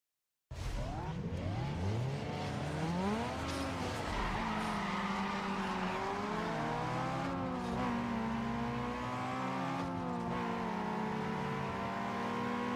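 Several video game cars roar along a road after a sudden start, engines revving up and down while tires squeal and skid continuously at close range for the whole stretch.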